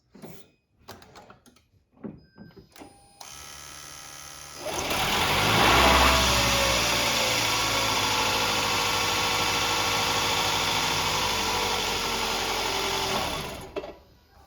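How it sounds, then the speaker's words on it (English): A 2007-2011 Toyota Camry Hybrid engine starts and settles into a steady, continuous idle, with a few clicks and knocks before it and the engine cutting off at the end. "Now we can start the vehicle up and just let it idle for 5-10 seconds"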